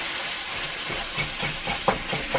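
Ground turkey, 85% lean and 15% fat, sizzling in a hot pan, a steady close hiss with small crackling pops throughout, no talking.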